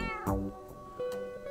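A cat meows in the video game Minecraft: two short, clear, nearby meows, the first louder and rising, the second softer, with no talk over them.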